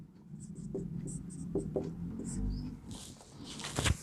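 Pen writing out a maths solution by hand, soft scratching strokes and taps at close range, steady and quiet with little pause, no voice.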